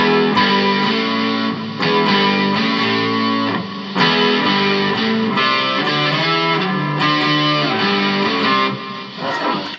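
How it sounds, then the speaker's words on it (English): Electric guitar run through a Boss GT-1 multi-effects unit on a distortion overtone preset, loud and continuous, with sustained distorted chords and shifting notes and no voices over it. "A distortion overtone."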